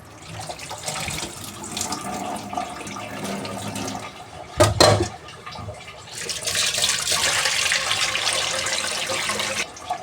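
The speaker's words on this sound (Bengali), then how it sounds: "আমার ডাল ধোয়া হয়ে গেছে" Lentils (dal) being washed under a running kitchen tap, with water splashing steadily, a brief louder clatter midway, then a stronger continuous gush of water into the sink.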